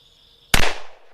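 A single sharp, loud shot from a stock Ruger Blackhawk .357 Magnum revolver cracks out close by, followed by a short fading echo.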